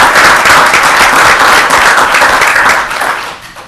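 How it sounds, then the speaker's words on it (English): Loud, dense applause from an audience at a town council meeting in Apex, sustained clapping from many hands that holds steady before fading out at the end. "So you can give a round of applause."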